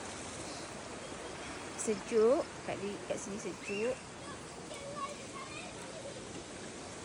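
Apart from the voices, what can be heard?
river flowing at a campsite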